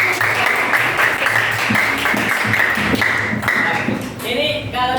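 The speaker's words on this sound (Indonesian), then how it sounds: "Oke, cakep, tepuk tangan." Applause from a small group after an interview, steady clapping throughout with a voice and some tapping mixed in, fairly loud and close.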